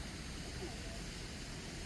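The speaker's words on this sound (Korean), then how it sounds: "여긴 폭포야." A waterfall beside a bridge roars as a steady, dense wash of broadband rushing water, loud and close, with no break across the whole stretch.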